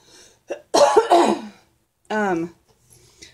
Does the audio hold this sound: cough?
yes